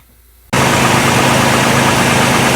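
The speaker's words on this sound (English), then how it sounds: "I'm going to clean up the surface on the hub bearing with some sandpaper while the engine's running." After a quiet half second, a 2010 Toyota Tacoma engine abruptly starts up loud and keeps running with a steady, noisy roar to the end.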